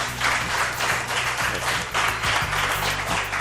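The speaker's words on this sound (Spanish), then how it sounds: "pido un aplauso para él, para ellos." Audience applause at a televised cultural event on La Gomera, a loud burst of clapping from a nearby crowd lasting a few seconds, with some low background rumble beneath it.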